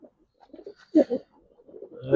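Giribaz pigeons coo softly and close by, a few throaty, rolling calls in short bursts with quiet gaps between them.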